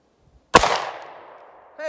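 A single sharp handgun shot fired at a target on an outdoor range, near and loud, with a long decaying ring and echo trailing off over a second before another sound begins.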